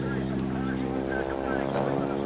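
A modified Stearman biplane with a 450 horsepower radial engine roars steadily at an air show, a constant, loud, smooth drone holding for the whole stretch while faint talk sits beneath it.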